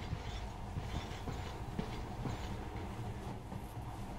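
A monorail train in the video game Metro: Last Light Redux runs with a steady low rumble and faint rhythmic clatter, quiet and continuous throughout.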